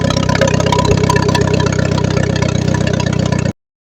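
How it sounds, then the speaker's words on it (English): A Vauxhall Corsa D with the 1.4 A14XER engine runs with a blocked catalytic converter and an oxygen sensor removed to vent exhaust. It idles with a loud, steady, throbbing rumble close by for about three and a half seconds, then stops abruptly. "The engine, now able to breathe,"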